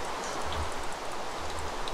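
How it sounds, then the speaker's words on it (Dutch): Rain falls steadily in Minecraft, a soft continuous hiss of fine drops at low level with no speech over it. "Het regent. Pijpen te stelen."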